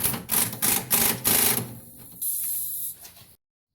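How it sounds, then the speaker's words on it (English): A ratchet or socket tool tightens the bottom bolt of a rear shock absorber on a Nissan Sentra with an 11/16 socket, giving several quick rattling bursts followed by a longer steady whir, close and alone. "we can go ahead and tighten our bottom bolt, 11/16 wrench or 11/16 socket"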